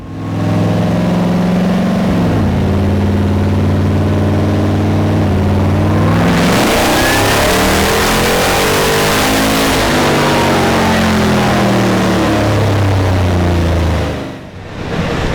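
A supercharged rock crawler on 42-inch tires accelerates hard in third gear, its engine roaring loud and close as the revs climb steadily, ease back briefly, then build again before cutting off at the end.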